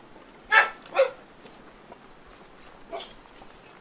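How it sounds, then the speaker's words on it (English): Otto, a dog in The Long Dark, gives two quick barks close together, then a softer third bark a couple of seconds later over a quiet, hissing background. "That's Otto. He barks sometimes."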